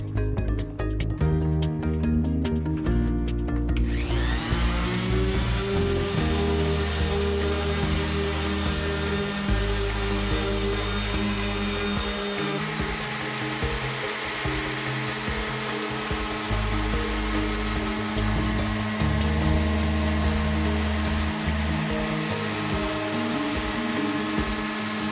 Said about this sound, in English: Step 1, sand the table.